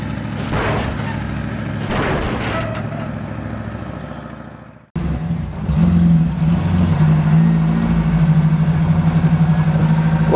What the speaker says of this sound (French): Ça fait quoi si tu enlèves les amortisseurs d'une bagnole et que tu laisses juste les ressorts?